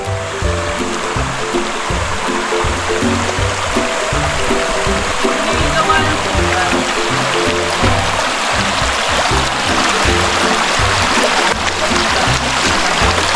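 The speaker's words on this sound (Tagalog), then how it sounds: "Oh, tubig na naman." River water rushing over rocks, a steady, loud babbling stream filling the whole span without any voices.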